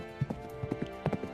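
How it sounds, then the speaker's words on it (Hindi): Horse hooves clip-clop in a quick, even rhythm of sharp knocks, close and clear over a steady low background, in a short sound-effect stretch with no talking. "तभी घोड़े की आवाज अर्जुन और गौरी के कानों में पड़ी।"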